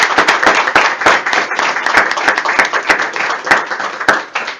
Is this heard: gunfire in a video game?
no